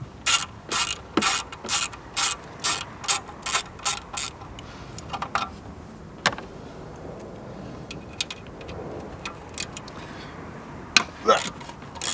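A ratchet wrench loosens exhaust bolts under a Renault Megane RS 250. It makes close, sharp bursts of rapid clicking in a regular rhythm, then a quieter stretch with scattered knocks and a few more ratchet strokes near the end.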